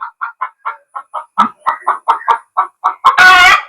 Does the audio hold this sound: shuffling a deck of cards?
no